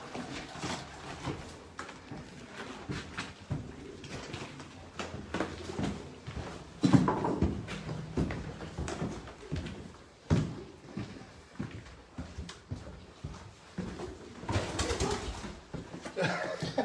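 A pigeon coos inside the chapel of a mysterious castle-monastery, the soft calls buried in a dim, reverberant interior amid shuffling, creaks and low background noise, with a door-like knock or two breaking through.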